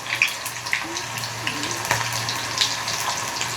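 Onions fry in a pan for chow mein, giving a close, steady sizzle with scattered sharp crackles and pops.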